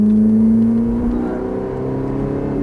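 A Ferrari sports car engine hums and revs steadily while accelerating toward a cone, its pitch holding then easing slightly, close and fairly loud with no voices.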